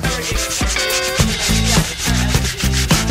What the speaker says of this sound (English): So you have some sandpaper and just fold this down, and I just want to sand this back a little.